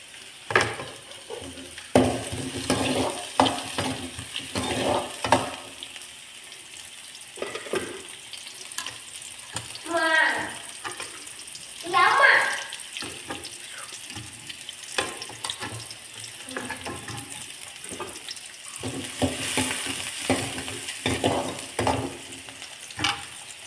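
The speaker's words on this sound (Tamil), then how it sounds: "வெங்காயம் வதங்கிடுச்சு" Onions sauté in oil in a pan with mustard seeds, chana dal and green chillies, crackling and hissing close by with repeated scraping stirs across the whole stretch.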